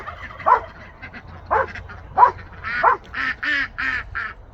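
A farm dog barks a warning at a hawk overhead: about seven sharp, fairly loud barks in an uneven rhythm, growing denser toward the end, with no talking.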